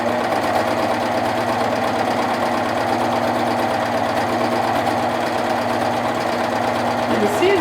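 A sewing machine runs steadily with twin needles, stitching the inside part of a fabric project close to the edge, a continuous mechanical hum and whir at close range throughout.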